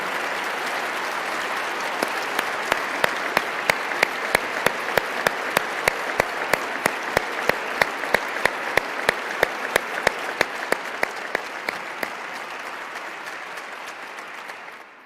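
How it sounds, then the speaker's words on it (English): A crowd claps steadily in a sustained round of applause at an Ohio public address, dense and even throughout, with a few sharp individual claps standing out near the front. "Let's stop at this moment and just give them a round of applause, no matter where they are in Ohio."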